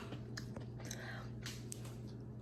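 Someone bites into hot, crunchy panko-breaded fried food and chews it close to the microphone, giving a few soft crunches and mouth sounds over a quiet room with a low steady hum.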